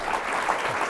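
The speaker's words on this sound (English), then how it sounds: "I encourage you to give one more round of applause to Massachusetts' newest Congressman" A brief moment of audience applause for Massachusetts Congressman Seth Moulton at a political happy hour, a steady patter of clapping heard only for under a second.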